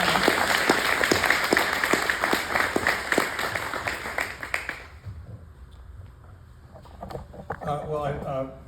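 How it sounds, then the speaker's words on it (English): A conference audience applauds a panel on local food economies and climate-smart agriculture, with steady, dense clapping for about five seconds that thins into a few scattered claps before a voice starts talking. "Let's give a round of applause to our panelists"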